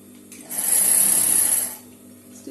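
A sewing machine runs one short continuous burst of stitching on a lined blouse, close and fairly loud, starting and stopping cleanly with quiet room tone before and after.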